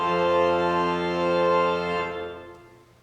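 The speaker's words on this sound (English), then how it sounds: "All of the great sounds combined sound like this." A Holtkamp pipe organ's great division with all stops drawn together sounds one full, rich sustained chord, loud and steady for about two seconds, then releases into a short fading church reverberation.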